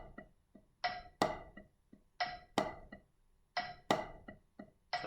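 Slow, even drum pattern of 16th notes at about 45 beats per minute with crisp hits and crashing cymbal accents repeating in a steady cycle, no voices.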